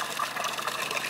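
Water flowing at Shucknall Spring along a seven-mile hiking trail, a soft continuous gushing trickle heard close and alone for about a second.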